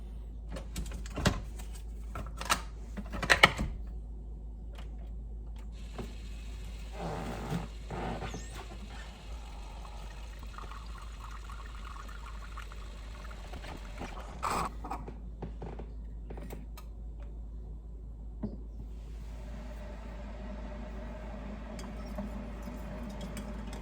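A Keurig coffee maker brews into a handblown glass mug holding creamer, giving a steady whirring pump hum and hiss in the middle stretch, then a lower drone near the end, with a few sharp clicks and clunks at the start.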